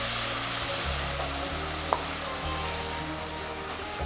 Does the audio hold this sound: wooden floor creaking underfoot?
no